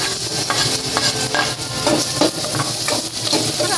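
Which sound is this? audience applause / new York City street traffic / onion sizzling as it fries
onion sizzling as it fries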